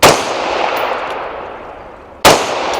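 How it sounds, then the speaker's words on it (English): Two sharp pistol shots crack at an outdoor range, loud and close, the first at the start and the second just past two seconds, each trailing off into a short ringing decay. "That's a 40-yard pistol shot."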